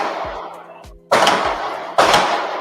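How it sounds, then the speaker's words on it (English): Gunshots ring out during a Halloween podcast taping, two sharp loud bangs about a second apart, each with a long echoing decay, following softer thumps. "Suddenly, gunshots."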